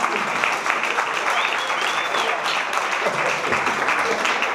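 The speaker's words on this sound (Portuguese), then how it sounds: "e uma salva de palmas para ele" Audience at a Brazilian stand-up comedy show breaks into steady, dense applause for a comedian, loud and sustained throughout, with a few voices mixed into the clapping.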